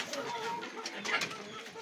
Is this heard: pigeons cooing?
yes